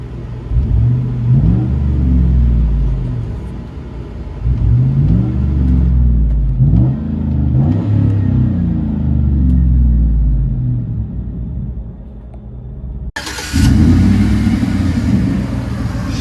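A Chevy Avalanche with a 5.3L V8 and aftermarket exhaust rumbles deep and loud from inside the cab, repeatedly revving up and dropping back, then cutting off abruptly before the drone resumes.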